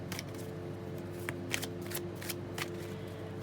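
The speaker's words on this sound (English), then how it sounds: "So I pre-shuffled off camera the Golden Girls deck, and then I'll shuffle one more on camera" A tarot deck themed on the Golden Girls shuffled by hand up close, a run of crisp riffling card flutters with several louder snaps, steady and alone with no talk.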